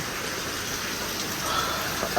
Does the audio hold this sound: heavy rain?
yes